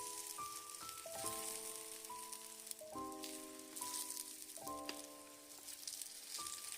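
A white radish and tofu pancake fries under a lid in an oiled pan over low heat, giving a faint, steady crackling sizzle beneath louder melodic music.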